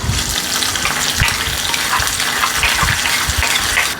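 Loud, continuous sizzle and bubbling as a hot tempering of golden fried onions is poured into a tamarind curry, a dense crackling hiss with low gurgles underneath, close and steady with no talk.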